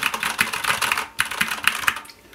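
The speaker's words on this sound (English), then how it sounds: "So just compare without O-rings, it sounds like this." Rapid, uneven typing on a mechanical keyboard without O-rings, with sharp, clacky keystrokes and hard bottom-out clicks, close and loud, in two bursts with a brief pause between.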